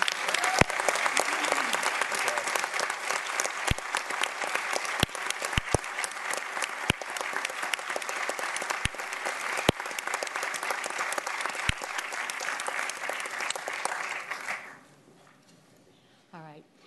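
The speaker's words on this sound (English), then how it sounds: "May we please have a round of applause for Michael" A city council meeting crowd applauds steadily for about fifteen seconds, with a few sharp claps standing out, before the clapping fades into quiet room sound.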